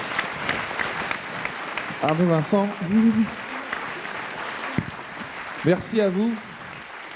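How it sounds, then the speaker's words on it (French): An audience at a speaking event claps steadily from start to finish, while a speaker talks briefly over the applause. "je vais vous demander de les applaudir très fort."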